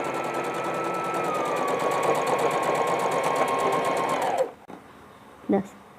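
A sewing machine runs steadily for about four seconds, stitching a dress strap, then stops abruptly; a brief faint knock follows near the end.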